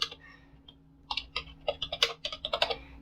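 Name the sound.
typing a command on a computer keyboard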